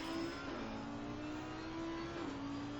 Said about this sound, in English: Why is that Audi giving me F1 vibes? It just sounds a little bit like an F1 car, doesn't it?